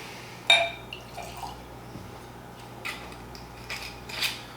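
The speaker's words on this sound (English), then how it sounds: "Go in for a pour." Wheated Weller bourbon whiskey being poured, giving a few faint, quiet drips and trickles with small clinks over low background hum.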